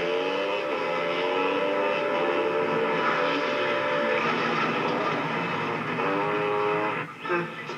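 Train on the Texas State Railroad at a live stunt event, a loud, steady rumble with a sustained tonal whine and horn-like harmonics, close by and filling the scene before fading slightly at the end.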